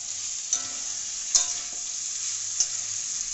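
Mourala fish sautéing with onions in a pan gives a bright, even sizzle, punctuated by three distinct clanks of a spatula against the pan.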